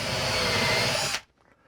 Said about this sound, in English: So now we're going to pre-drill here